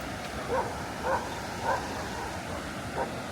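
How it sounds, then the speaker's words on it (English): Several distant dog barks pop out at intervals over a steady outdoor background hiss in a residential area of Hua Hin, Thailand, faint and spaced roughly half a second apart. "There's so many dogs."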